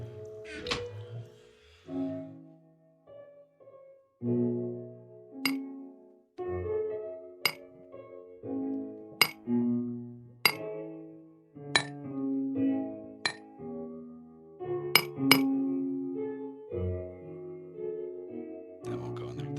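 Rapid clinking, chiming hits from a chisel in GregTech: New Horizons Minecraft, crisp metallic pings landing one after another over a layer of tonal background music, all at a steady, moderate volume.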